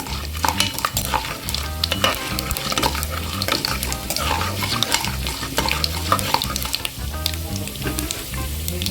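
Raw, unroasted peanuts frying in oil for a tamarind rice dish, with a steady dense sizzle and crackle, repeated scraping stirs and utensil clinks close by, and no talk.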